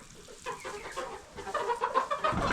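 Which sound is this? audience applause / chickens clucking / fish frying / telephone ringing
chickens clucking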